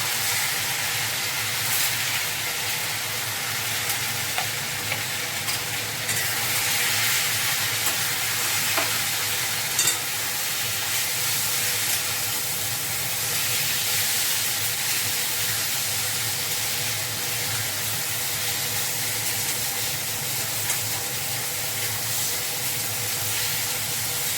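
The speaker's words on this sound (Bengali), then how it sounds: "এবার এই যে কড়াই এটা গরম হলো, দেখুন এটার সঙ্গে দিয়ে নাড়বো" A potato mash is stirred in a hot kadai, giving a steady close sizzle with soft scraping and stirring noises that continue evenly without any talk.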